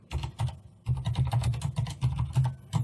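Fingers type a file name on a computer keyboard, a close, steady patter of quick key clicks with a brief pause near the start, no talk.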